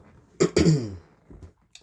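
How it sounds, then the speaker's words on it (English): A person clears their throat with two rough, forceful bursts, followed by a softer short rasp, close up with no other sound. "While I clear my throat."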